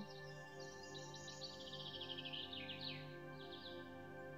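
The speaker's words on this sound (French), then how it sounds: "Peut-être le chant d'un oiseau," Birdsong with quick trilling chirps and warbles, a lively burst of high notes over a soft steady background hum.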